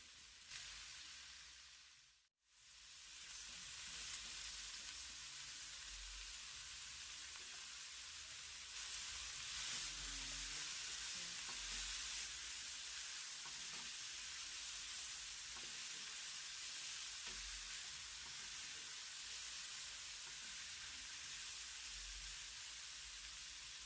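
Grated garlic and ginger fry in a pan with a faint, continuous hiss that swells slightly after a brief break near the start, steady and quiet throughout with no voices.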